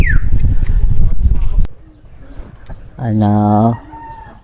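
Hungry chickens call loudly nearby, a dense clucking clamor followed by a clear rooster-like crow, with a person speaking briefly.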